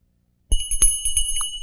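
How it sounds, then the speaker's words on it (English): A small handheld bell rings in a quick jingling series of bright metallic strikes, close and clear in a quiet room, with no voices. "It's a bell."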